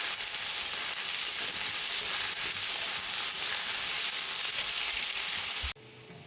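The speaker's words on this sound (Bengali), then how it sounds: "একটু ভাজা ভাজা করে নেব।" Parboiled cauliflower and peas sizzle in a hot pan, a steady loud hiss of frying from near by that cuts off abruptly at the end, with no voices.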